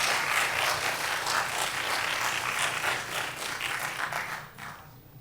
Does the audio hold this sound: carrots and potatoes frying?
no